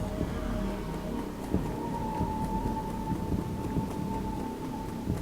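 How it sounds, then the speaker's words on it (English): Steady rain with low rumbles of thunder fills the background of a rainy city scene in the game Shadowrun Returns, a continuous wash of noise with a few soft thuds and a faint electronic tone, no talking. "It seems to be raining."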